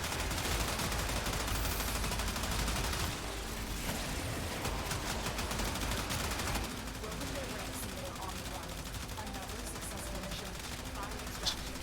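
Rapid, sustained gunfire from energized munitions in Warframe rattles on without pause, a dense stream of shots under occasional speech.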